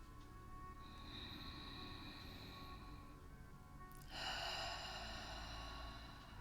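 A long, slow deep breath, a soft breathy inhale building to a louder rushing exhale midway, close and quiet over a faint steady background hum.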